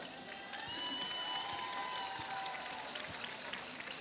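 An audience at the opening ceremony of a palio gives a round of applause, a steady, fairly distant wash of many hands clapping that holds through the whole stretch and ends with a few louder claps.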